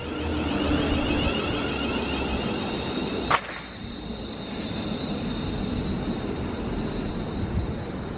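An East Midlands train bound for Corby rumbles steadily close by, with one sharp crack partway through and a faint high whine throughout.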